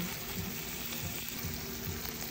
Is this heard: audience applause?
no